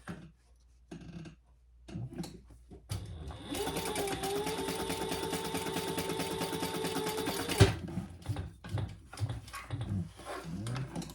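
Sewing machine stitching a wallet, running steadily for about four seconds with a rising then level whirr, preceded and followed by quieter handling clicks and light rustling near the mic.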